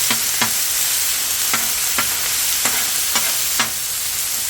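Homemade dog food sizzles on a four-burner Blackstone griddle, a steady close frying hiss punctuated by about eight regular scraping stirs of a spatula, no voices.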